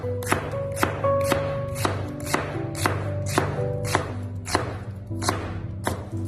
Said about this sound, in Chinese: 准备一个洋葱，先切成细丝